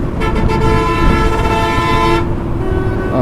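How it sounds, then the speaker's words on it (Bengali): A loud, sustained vehicle horn blares steadily for about two seconds over rumbling road noise, with a few brief toots at the start. "এই সেই হর্ন বাজাতেছে সেই"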